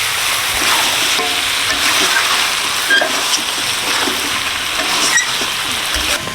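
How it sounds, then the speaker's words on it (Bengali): Chicken pieces from a big rooster being stir-fried and braised in a pan, a steady loud sizzle running throughout with intermittent scraping stir strokes, no talking. "মাংস আমি ঢেকে ঢেকে কষবো ভালো করে"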